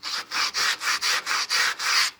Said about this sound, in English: I've been using a coarse steel wool, really, really coarse